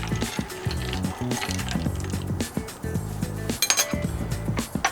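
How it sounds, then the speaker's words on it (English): A spoon clinks and rattles against a glass while stirring a Horse Feather cocktail topped with ginger ale, a quick irregular series of close, light metallic taps and scrapes. "Give that a quick little stir"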